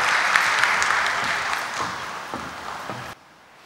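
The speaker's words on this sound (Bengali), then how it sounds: "তাকে আমরা জোরে করতালির মাধ্যমে পোডিয়ামে আমন্ত্রণ জানাব" Audience applause at the BASIS Soft Expo 2019 opening ceremony, welcoming chief guest Zunaid Ahmed Palak to the podium: dense, steady clapping from a large crowd that cuts off abruptly just before the end.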